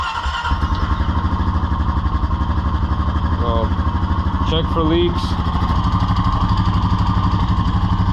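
A Honda Rancher 420 ATV engine idles close by with a steady low chugging after starting, someone speaking briefly over it during an oil change.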